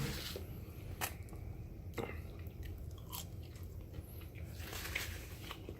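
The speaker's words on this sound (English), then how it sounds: "I'm eating a burger with bacon" A bacon burger and fries are eaten close up, with soft, wet chewing and a few crisp bites against a steady low background rumble.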